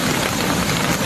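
Heavy rain pours steadily during floods in Guercif, Morocco, a dense, loud, unbroken hiss that fills the whole moment with no voices.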